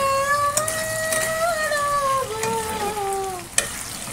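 Food frying in a pan, with steady sizzling and occasional stirring scrapes under a sustained, gliding melodic tone that runs throughout.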